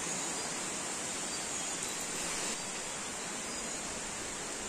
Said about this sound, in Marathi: आनी तितून वॉटरफॉलाचो आवाज